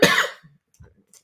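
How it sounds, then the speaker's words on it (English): A single harsh, near cough bursts out alone, followed by a couple of faint, brief throat sounds in otherwise quiet surroundings. "I've been coughing today."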